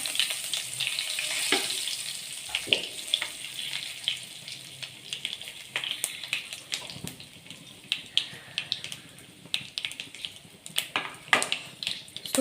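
Mustard seeds, whole cumin, asafoetida and curry leaves crackling and sizzling in hot oil while tempering poha, with a steady close frying hiss broken by sharp popping spatters.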